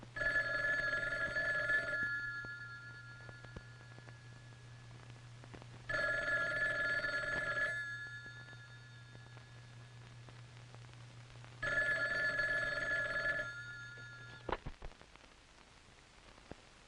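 A telephone bell rings in three long bursts separated by pauses, with a steady low hum under it and a click at the end as the receiver is picked up.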